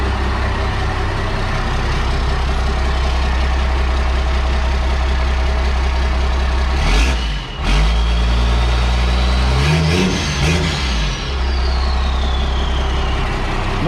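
An engine in an abandoned motorhome idles with a deep steady rumble, then is revved a couple of times, the pitch rising and falling before it settles back to idle; no talking.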